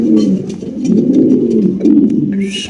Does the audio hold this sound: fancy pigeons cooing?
yes